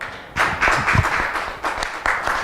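Church congregation clapping in short irregular bursts, moderately loud and close, with a few voices calling out amid the applause.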